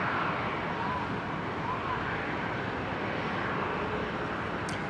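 An airliner taking off from Runway 19 right at Brisbane Airport, a steady, broad engine roar heard from a distance with no change in level.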